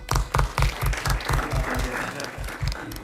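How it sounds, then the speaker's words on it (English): Applause for hackathon presenters at a closing ceremony, with a few strong rhythmic claps standing out over a lighter patter of clapping and some background murmur. "you deserve all the applause we can give you"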